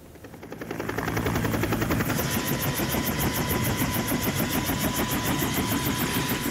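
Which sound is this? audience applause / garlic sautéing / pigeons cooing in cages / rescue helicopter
rescue helicopter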